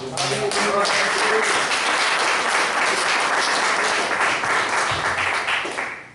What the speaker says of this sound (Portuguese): Com temor aplaude ao Senhor